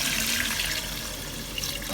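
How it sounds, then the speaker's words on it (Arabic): Warm water is poured into a cooking pot holding chicken pieces, a steady splashing rush that runs continuously and fairly close. "وهسه راح نضيف المي الدافي"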